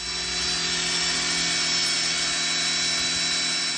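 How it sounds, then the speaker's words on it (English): A power drill with a ceramic-tipped bit boring holes into a kitchen floor to fit an oven anti-tip bracket, a steady, loud, close grinding whine that runs unbroken throughout. "now we're gonna just drill the holes"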